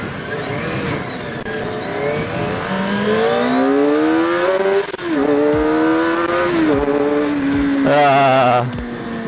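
A Kawasaki ZX25RR four-cylinder motorcycle accelerates hard through several gears, its high-pitched engine wail rising and dropping at each shift, loud and close.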